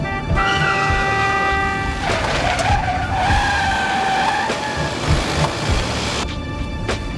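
A car with failed brakes skids loudly, its tires squealing in a long wavering screech over rumbling road noise, then the squeal fades out.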